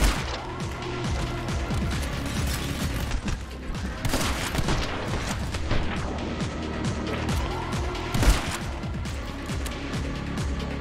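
Rapid gunfire from the video game My Friend Pedro, loud and continuous bursts of shots and crashes over about eleven seconds, with a sharper blast near the end.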